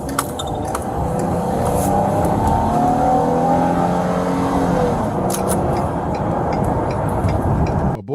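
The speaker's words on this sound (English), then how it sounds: "I mean, I could just hear that engine rumming." A police car engine revs hard while speeding during a prisoner transport, a loud, steady roar with rising and falling engine tones heard continuously from inside the cabin.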